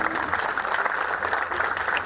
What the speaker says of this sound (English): Please do give yourselves a round of applause.